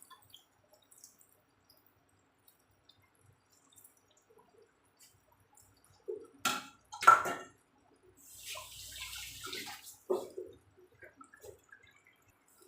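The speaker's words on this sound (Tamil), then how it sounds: "இப்போ அளவு தண்ணி ஊற்றணும்." Water pours in a short steady stream into a cooking pot for mutton biryani, with a few splashes and drips, close by, amid otherwise near silence.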